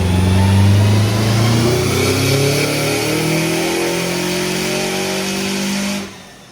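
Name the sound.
car engine revving on a dyno with E85 fuel system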